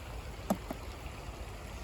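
Creek water running during gold panning on a hot summer day, a steady low babble close by with a single faint splash or knock partway through.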